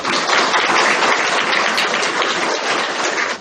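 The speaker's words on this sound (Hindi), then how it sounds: "ये सभी महानुभावों के लिए हम स्टूडेंट सभी जोरदार तालियां बजाएं" Students at a school event in Bahattanagar give loud, dense, continuous applause, many hands blending into an even roar that holds for a few seconds.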